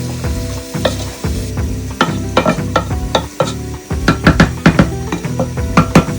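Moroccan couscous topping of chicken and vegetables is stirred in a pot, with steady, rhythmic scraping and clanking over a loud, continuous sizzle, close up and with no talking.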